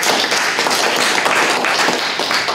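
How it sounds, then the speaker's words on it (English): Audience applause at a higher-education event, a dense, steady wash of many hands clapping close and loud for the whole stretch, with no talk over it. "Round of applause."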